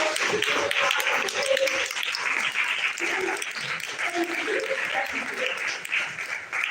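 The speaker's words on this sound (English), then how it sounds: "can we give a round of applause?" A forum audience at an annual single mothers' empowerment event breaks into sustained applause, a steady dense patter of many hands that fills the room, with some cheering voices mixed in.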